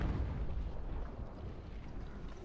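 Low, rumbling artillery barrage from the Ultimate General: American Revolution battlefield, with mortar fire blending into a continuous heavy boom that stays loud and dense throughout, with no talk.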